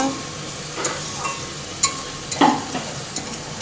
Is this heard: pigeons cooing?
no